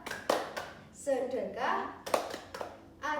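A class of third-grade children claps in rhythm during a classroom clap chant, sharp hand claps in short bursts mixed with their chanting voices and a teacher speaking.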